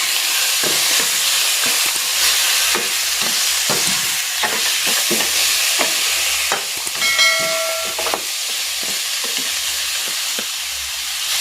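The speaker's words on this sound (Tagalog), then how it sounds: "Igigisa ko na dito itong pork ribs." Pork ribs seasoned with salt and pepper sauté in a hot pan, giving a steady, close sizzle and hiss with occasional stirring scrapes throughout.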